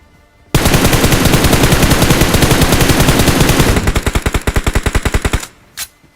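Automatic gunfire as cover fire in a battle-royale video game, a long rapid sustained burst that turns into distinct spaced shots, then stops with a couple of faint clicks.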